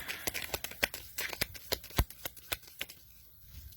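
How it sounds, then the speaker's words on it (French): Tarot cards are shuffled and drawn close up, giving a quick series of crisp riffling snaps and slaps that thin out toward the end. "Je vais retirer 2 cartes."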